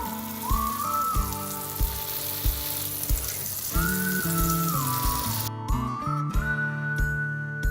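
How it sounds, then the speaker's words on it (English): Sweet potato patties sizzle and crackle steadily in a hot pan, close up, with a whistling tone rising and falling and occasional soft knocks over the frying. "once you can hear them sizzling away"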